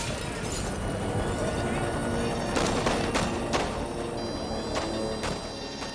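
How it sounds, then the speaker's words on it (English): North Vietnamese anti-aircraft battery fire during the Vietnam War, with sharp bursts of gunfire cracking over a dense rumbling background, several distinct shots standing out toward the end. "They flew straight into an NVA anti-aircraft battery."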